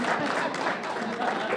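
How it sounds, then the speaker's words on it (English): Audience at a Clark County Town Advisory Board meeting applauding, a steady wash of many hands clapping at an even, fairly loud level throughout. "Let's give them another round of applause"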